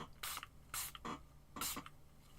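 A handheld spray bottle mists paper in three short, sharp hissing bursts, close and fairly quiet, separated by brief pauses.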